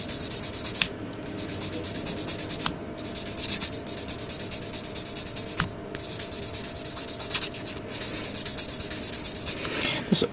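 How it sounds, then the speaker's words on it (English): Plastic part from a 1/144 HG GM Type C Gundam model kit being sanded, a steady close scratchy rubbing that continues throughout with brief pauses between strokes. "sand it down a bit."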